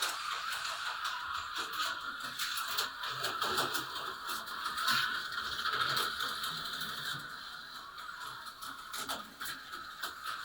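Steady mechanical ratcheting whir with fast clicking texture runs throughout, fairly constant in level, a T-Jet slot car with a metal guide pin racing along a track.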